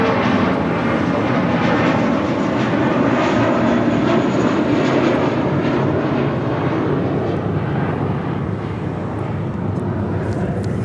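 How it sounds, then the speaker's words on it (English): A JetBlue Airways A320 jet airliner on a flight to Cancun roars loudly and steadily at Los Angeles International Airport, a broad, sustained engine rush that stays close and powerful for the whole stretch. "JetBlue Airways Flight 1570 heading to Cancun, Mexico in this"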